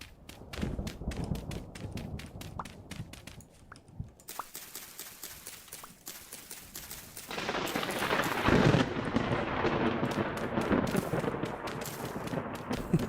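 Thunder from lightning strikes in the game Vintage Story rumbles and cracks, sharp bursts followed by a rising, sustained roar.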